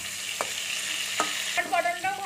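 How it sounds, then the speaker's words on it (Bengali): Pieces of pointed gourd (potol) fry in a pan with a steady sizzle, broken by a few sharp scraping strokes as a spatula stirs them now and then, close and alone. "আর পটলটা যাতে বসে না যায় সেজন্য আমি নেড়ে নিচ্ছি একটু মাঝে মাঝে"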